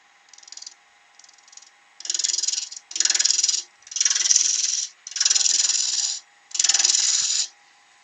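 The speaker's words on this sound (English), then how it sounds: "So I'm just going to use my bowl gouge." A bowl gouge cuts a spinning beech bowl on a wood lathe in a series of harsh, hissing scrapes: short light touches first, then four longer, louder cutting passes separated by brief pauses.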